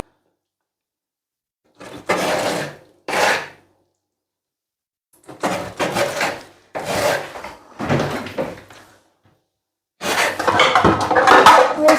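A knife slices raw chicken breast on a wooden cutting board in several short bursts of rapid, close strokes, separated by brief silences, with no talk.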